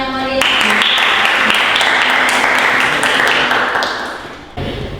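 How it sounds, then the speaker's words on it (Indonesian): Classroom audience applauding, dense close clapping that holds steady for about four seconds and then fades, with a brief burst of noise at the end. "Oke, tepuk tangan yang meriah."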